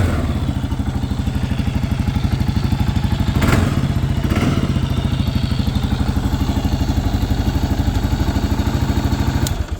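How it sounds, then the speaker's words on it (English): A 2022 Kawasaki KLR650 Adventure ABS single-cylinder engine idling after a cold start, a steady loud chugging thump with a couple of mechanical clunks partway through, close up and without speech. "that's kind of a cold start of the bike"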